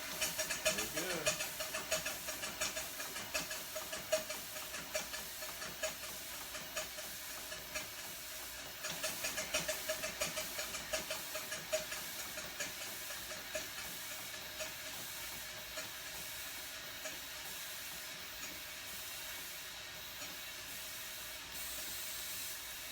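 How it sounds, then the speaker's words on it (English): A small Allen Mogul steam locomotive running on compressed air chuffs and hisses from its stack, soft repeated exhaust puffs and spray fading into a steady hiss, with people talking quietly nearby. "Just love to hear that stack talk."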